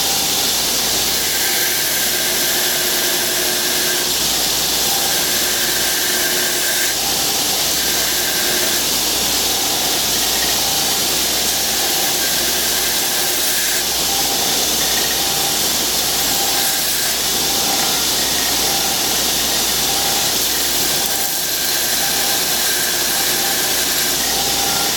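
A grinding wheel shapes a stock removal knife blade with a loud, steady abrasive roar and hiss that runs unbroken and close, rising and easing slightly in pitch as the steel is pressed to the wheel.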